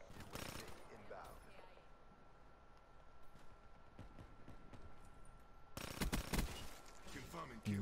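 Burst-fire SMG shots in Black Ops 3, quick clusters of gunfire at the start and again near the end, with game noise and a steady tone between them.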